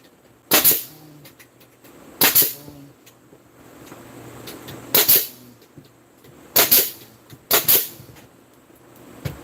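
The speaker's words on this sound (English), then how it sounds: "I'm going to tighten this corner. Bam, shoot a nail in." A nail gun drives nails into a wooden frame in five sharp, loud bangs spaced a second or two apart, one of them a quick double shot. Quiet room tone fills the gaps between shots.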